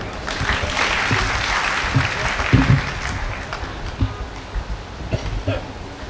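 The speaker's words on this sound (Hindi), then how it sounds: "गीत गजल और आप सबकी तालियां" Audience applause at a college poetry recital (kavi sammelan) at Kirori Mal College, steady broadband clapping from a seated crowd that swells and then thins into scattered claps toward the end, with no speech over it.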